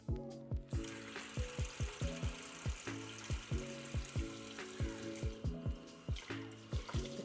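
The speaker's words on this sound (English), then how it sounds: "I despise doing the dishes, but I don't have a dishwasher." Dishes are washed by hand under a running tap in a kitchen sink, with a continuous stream of water broken by repeated rhythmic splashes and clinks, close and without any talk.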